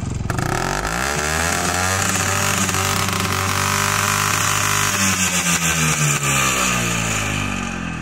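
An Izh Planeta 4 motorcycle engine runs steadily nearby with a loud, throbbing single-cylinder drone, its pitch rising and falling slightly as the throttle is blipped, heard on its own with no voices.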